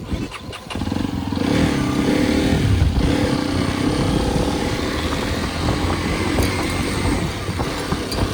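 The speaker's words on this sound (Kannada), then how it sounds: "ಸೊ ಆನ್ ಮಾಡು ಗಾಡಿ." A Hero Xpulse 210 motorcycle engine cranks and catches about a second in, then settles into a loud, steady close-up idle that runs to the end.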